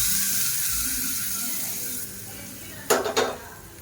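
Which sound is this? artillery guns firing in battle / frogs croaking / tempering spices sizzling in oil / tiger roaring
tempering spices sizzling in oil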